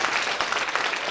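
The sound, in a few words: audience applause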